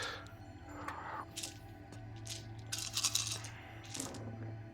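Dice rolling and clattering on a table during a tabletop wargame of Age of Fantasy: Regiments, several quick rattling clicks and chinks in bursts, moderately near and fairly quiet.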